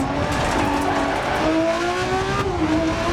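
Rally car engine in a racing game revving hard through gear changes, a loud, close, rising and falling whine with tire noise, alone without talk.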